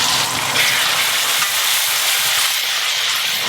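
Steady, close sizzling of onions and tomatoes frying in a pan, a dense continuous hiss with faint crackle and no talking.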